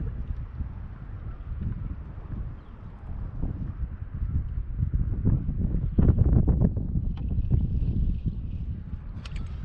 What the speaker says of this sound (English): the wind's kicked up and it's just blowing me through